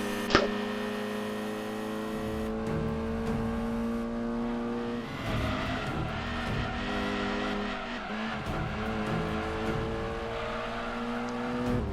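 A Dodge Viper GTS engine in the racing game DT2 drones at steady high revs for the whole stretch, its harmonic whine holding level before dipping and shifting as it changes gear mid-lap, loud and continuous with no talk.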